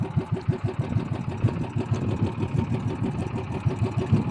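Small fishing boat engine running steadily at sea during net fishing, a loud, close, rhythmic low chugging that pulses evenly throughout with no talk over it.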